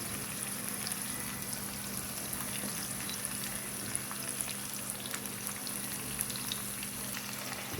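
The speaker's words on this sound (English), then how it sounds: "So you want to mix it around so your saltfish can be sauteed." Saltfish sautéing with onion, bell pepper and scallion gives a steady, even frying sizzle with a faint crackle throughout, fairly quiet and unbroken, with no voices over it.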